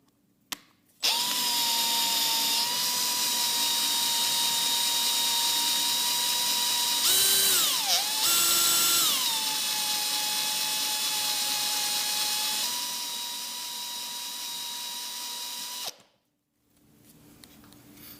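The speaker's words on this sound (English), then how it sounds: "Slow down the drill." A power drill spins a unibit through 1/4-inch steel, a steady high whine running loud and close for about fifteen seconds, pitch dipping and recovering briefly midway as the trigger eases, then stopping abruptly.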